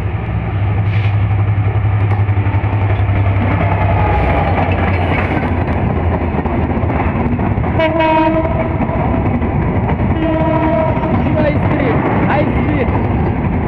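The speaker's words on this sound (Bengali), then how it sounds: "মধুমতি এক্সপ্রেস খুব স্পিডে বের হয়ে যাচ্ছে ঢাকা গ্যান্ডারা রেলওয়ে স্টেশন থেকে" A non-stop Madhumati Express from Rajshahi races at speed out of a Dhaka station, a loud steady roar and rumble of wagons with two blasts of the horn partway through.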